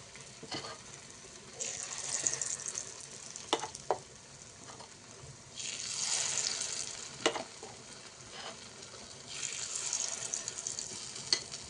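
Paniyaram batter frying in an oiled paniyaram pan, a sweet paniyaram being cooked: steady close sizzling in repeated swells, with occasional clicks and taps of a utensil against the pan. No talk.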